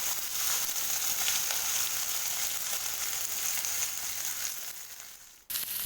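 Onion, red chillies and curry leaves sautéing in hot oil in a pan, a dense continuous sizzle with faint crackles for several seconds, close and loud, cutting off abruptly near the end.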